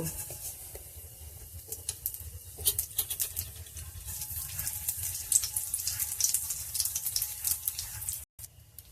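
Poppy seeds dropped into hot oil in a pan, starting a close, crackly sizzle that builds into a busy patter of spits and pops, with a brief cutout near the end.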